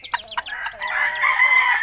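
Close, clear clucking from a laying hen: a few quick clucks, then a drawn-out rising cackle that rings on to the end.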